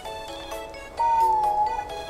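LOVOT home robot's current voice: a short electronic chirping tone, brief soft notes followed by a brighter sustained warbling whistle near the end, close and moderately loud.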